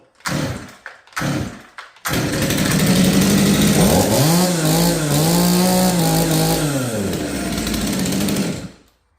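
A home-built Farmertec 200 chainsaw, a China-made clone saw, sputters in short bursts while starting, then runs loud and close with a steady high whine. The pitch climbs and falls through several revs before it cuts off.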